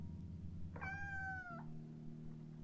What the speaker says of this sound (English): We heard a cat crying from outside.